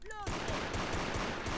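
Rapid automatic gunfire in the Brick Force game on a castle map, a dense loud burst of shots that runs without a break after a short rising tone at the start.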